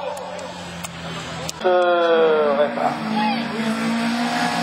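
Division 4 rallycross race cars at Lavaré revving hard off the start line, a loud rising engine roar with climbing gear whines after a brief quieter idle, under French commentary.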